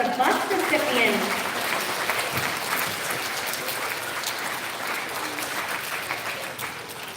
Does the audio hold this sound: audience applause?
yes